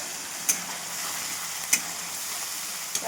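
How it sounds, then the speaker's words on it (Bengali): Tomato and ground spice paste sautéing in a pan, a steady soft sizzle with a few sharp spatula clicks against the pan as it is stirred, close and alone with no talking. "দেখো টমেটোটাও দিয়ে দিয়েছি আর পেস্ট করা মশলাটাও সব দিয়ে দিয়েছি। এবার ভালো করে কষে নেব।"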